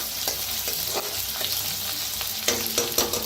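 Spices are dry-roasted in a pan, giving a steady soft sizzle and crackle with scraping stirs at intervals.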